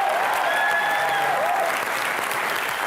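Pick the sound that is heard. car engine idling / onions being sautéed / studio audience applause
studio audience applause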